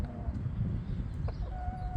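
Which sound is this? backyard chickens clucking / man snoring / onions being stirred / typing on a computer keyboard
backyard chickens clucking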